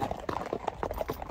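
Horses' hooves clip-clop steadily along a trail near Strawberry Reservoir on a long-distance horseback journey, a quick, close rhythmic patter of hoofbeats heard alone.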